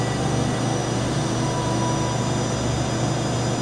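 A 1998 Okuma & Howa Millac 438V 4-axis CNC vertical machining center runs its spindle at about 400 RPM in low range, giving a steady, continuous mechanical hum with a strong low drone and broadband whir, unbroken and alone.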